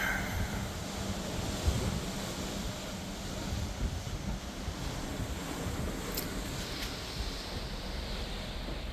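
Steady wind and water rush from the deck of the Emerald Princess cruise ship sailing out of Zeebrugge port, a faint, continuous broadband wash of waves and wind with no clear events.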